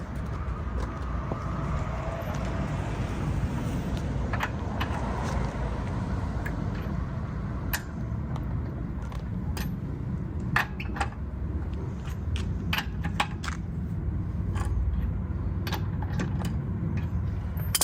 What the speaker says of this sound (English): we're just going to go ahead and start loosening up the lug nuts.